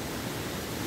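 Loud, steady roar of a waterfall near Kathmandu, Nepal, swollen by mid rainy season streams, a dense continuous wash of falling water close by with no other sounds.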